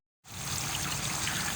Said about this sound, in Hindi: इसमें पानी भी डाल देंगे 1 कप